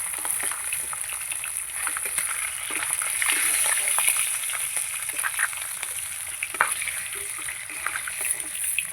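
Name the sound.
katla fish pieces frying in oil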